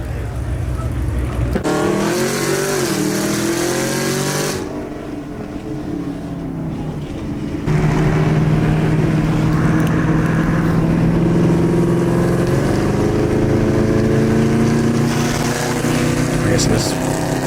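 A loud, lumpy cammed V8 engine of a ZL1 on beadlock wheels revs and roars from inside the car, dropping off briefly before surging louder, with voices talking over it at times.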